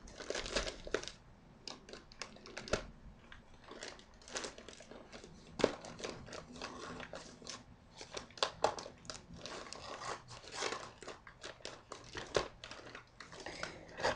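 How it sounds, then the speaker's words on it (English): Crinkling plastic packaging rustles and crackles in irregular bursts as scissors cut it open, with sharper snips and tears, close up and fairly quiet. "So I want to do a package opening from the scissors."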